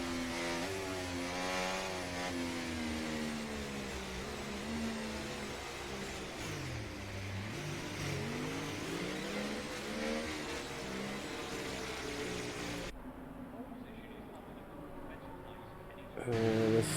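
Race cars in a sim racing game accelerate together at a safety car restart on a Spain round, a dense layered engine drone with rising pitch sweeps and revving, steady and loud throughout, with a brief cut near the end.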